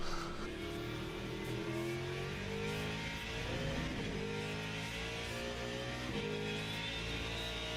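A racing car engine from a video game hums and revs continuously, its pitch rising and falling steadily with no talking over it.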